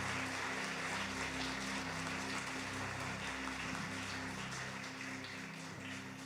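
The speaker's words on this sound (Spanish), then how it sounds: "Dale palmas al Señor." Church congregation at a New Year 2024 service claps together, a dense steady patter of hands held throughout over a low sustained musical drone.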